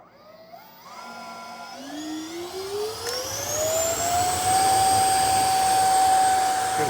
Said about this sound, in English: just a little bit of a prolonged test run, and you can just hear the RPM change